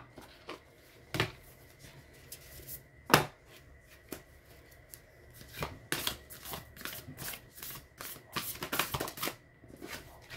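Tarot cards from a goddesses and angels deck being shuffled, a run of crisp riffling bursts and slaps close by, irregular and sharp, with no talking.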